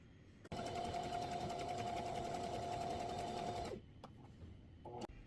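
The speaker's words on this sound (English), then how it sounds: "so we're just going to do the zigzag stitch" A sewing machine runs a zigzag stitch along the edges of a shirt being taken in, a steady, loud mechanical whir with a constant hum lasting about three seconds before cutting off, followed by a few faint clicks.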